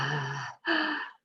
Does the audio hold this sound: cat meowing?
no